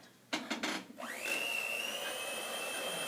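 Electric mixer beating batter made with butter, a teaspoon of vanilla and two eggs: a few clattering knocks, then the motor whirs up and holds a steady, close, high-pitched drone.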